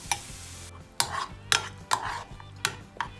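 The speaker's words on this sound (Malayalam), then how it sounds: "കൈ എടുക്കാതെ ഇളക്കിക്കൊണ്ടേയിരിക്കുക, ഇല്ലെങ്കിൽ തൈര് പിരിയും" A spoon stirring sour curd into kurukku kaalan in a pot, close and clear with no voices, giving about six rhythmic scraping strokes against the pot with short pauses between them.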